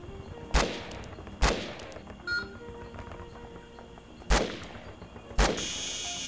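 Gunfire in the Vietnam War video game Conflict: Vietnam, four loud sharp shots at uneven intervals with a lighter metallic clank between them, over a steady low background hum.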